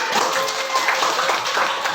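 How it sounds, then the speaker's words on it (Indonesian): Schoolchildren in a classroom clap together on the teacher's cue, a brief, steady patter of many small hands, close and fairly loud, with a faint tonal whistle in the room. "Oke, beri tepuk tangan."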